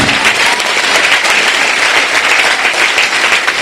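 A church congregation applauds steadily and loudly to acclaim Jesus, a dense wall of clapping that holds without a break from start to finish.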